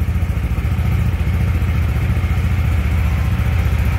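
Small engine of a Qooder four-wheeled scooter idling just after starting, a steady close rumble with a fast throbbing pulse and light mechanical clatter, loud and continuous without talk.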